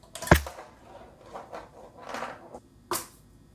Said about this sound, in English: So to hear the snare drum with the rice,